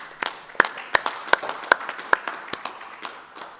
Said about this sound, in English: another round of applause to all the speakers this session.